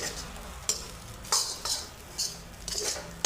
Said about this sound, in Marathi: आता कसं सगळं चांगलं मिक्स करून घ्यायचं